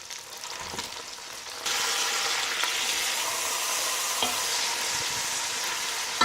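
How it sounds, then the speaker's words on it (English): Beef bottom round browning in a hot pan for a pot roast: a soft sizzle that jumps to a louder, steady, close frying hiss partway through and holds, with no voices. "we're getting some nice browning"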